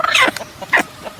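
A hen gives two short, harsh clucking squawks close by, with fainter sounds between them, in a brief burst from a hen with her brood of ten chicks.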